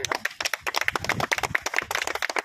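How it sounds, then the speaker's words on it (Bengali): A group of people clapping their hands together at a pond owners' award gathering, with dense, irregular claps in a continuous burst close by. "সবাই মিলে একটু হাততালি"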